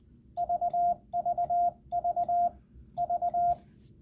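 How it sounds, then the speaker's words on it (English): Morse code letter V keyed repeatedly on a ham radio side tone: four clean groups of three short dits and one long dah, evenly spaced at a steady mid pitch, alone over a faint hum. "Let me send a letter V a couple times."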